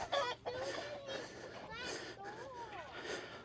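Chickens on a homestead cluck and call in short, nearby bursts, with a rooster-like cry in the mix, while a person talks and coaxes them over the birds.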